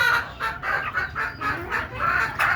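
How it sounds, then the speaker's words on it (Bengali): Native desi hens on a small poultry farm cluck in a rhythmic series of short, bright calls, close by and fairly loud, with no one speaking. "এই যে দেখেন দেশি মুরগি"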